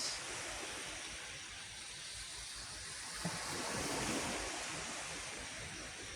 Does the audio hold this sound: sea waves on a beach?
yes